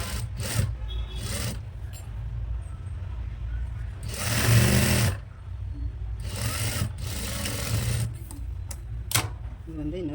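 A sewing machine stitches a frock nighty in short bursts, whirring rapidly for a second or two then stopping, with one longer run midway and a voice speaking between runs.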